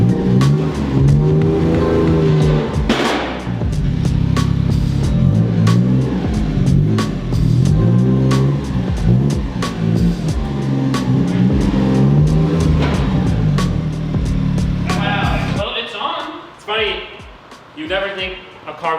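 A car on a chassis dyno in a shop revs in repeated loud engine bursts under someone talking, then cuts off near the end as speech continues.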